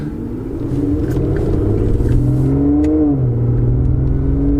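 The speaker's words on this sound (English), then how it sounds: "Fantastic car, and I can see why so many people buy them, and they are so popular, being the flagship V12 from Aston Martin." Aston Martin Vanquish with its flagship V12 engine revs up and holds a loud, deep rumble, pitch rising and falling through several throttle swells, close by with no talk.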